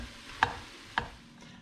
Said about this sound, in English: And then what I'm gonna do now is stir it up.